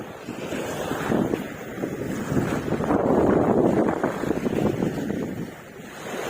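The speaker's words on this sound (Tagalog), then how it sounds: "ngayon ay medyo mahangin" Steady wind buffets the microphone on a shoreline during shore-casting fishing, a broad continuous roar that swells and eases over several seconds, with surf-like rushing underneath and no voices.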